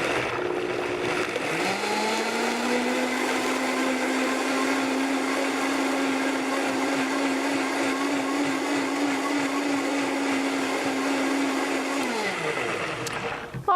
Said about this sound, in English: now in your blender